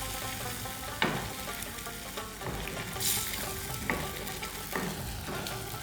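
Matar paneer gravy with full cream bubbling in a pan, a steady thick sizzle and simmer with several soft thuds and scrapes of stirring spaced through it, close and moderately quiet with no voices.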